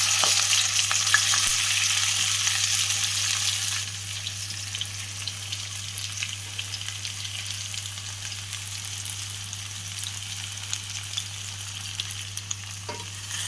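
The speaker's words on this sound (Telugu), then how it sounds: "ఇప్పుడు కట్ చేసుకున్న బెండకాయలు ఆయిల్ వేసేద్దాం." Cut okra pieces frying in hot oil in a kadai for crispy bhindi fries, a dense hissing sizzle that eases after a few seconds into a softer steady bubbling over a low constant hum, with no talking.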